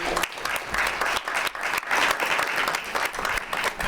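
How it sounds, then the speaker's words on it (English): An audience applauds a panel at an event, steady broadband clapping from a crowd filling the room for about four seconds with no talking over it. "Round of applause for our panel."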